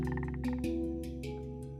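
A Minecraft frog croaks in a cold biome, a short series of quick croaks followed by a few deeper single croaks, heard alone over steady game ambience.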